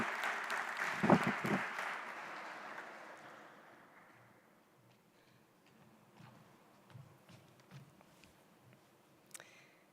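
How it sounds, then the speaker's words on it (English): Applause at a university welcome event for new students in Segovia, a burst of clapping that starts fairly full and then dwindles over a few seconds to scattered faint claps and quiet room noise. "Let's give her a big round of applause."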